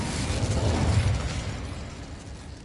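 The Incendio fire spell in Hogwarts Legacy goes off as a close, rumbling whoosh-like blast with crackling texture, swelling quickly and then fading over a couple of seconds.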